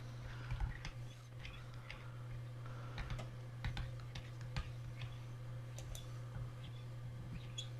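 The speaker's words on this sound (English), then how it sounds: "Yes, Alan, I can hear you typing." Someone typing on a computer keyboard during an online call, scattered quiet key clicks in irregular bursts over a steady low hum, faint and somewhat distant with no talk.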